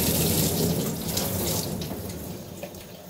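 Hot water runs steadily from a tap into a dog grooming tub, a loud close splashing gush that continues without a break, with no talking.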